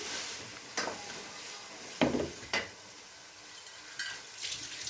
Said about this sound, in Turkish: İkinci tencereyi kavuruyor.